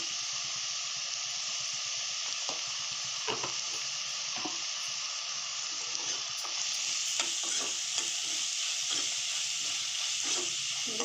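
Sliced onions sizzle in hot oil in a pan for a navilukosu palya, a steady bright hiss running throughout with frequent scraping stirs of a spatula close by, no voices.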